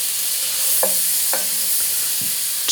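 Three tablespoons of butter melting over lowered heat in a pan for chicken marsala, giving a steady close hiss with a few soft taps from a utensil, and no voices.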